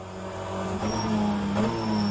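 A 2022 Honda Civic BTCC touring car in rFactor 2 holds a steady, sustained engine drone at high revs, with no talking.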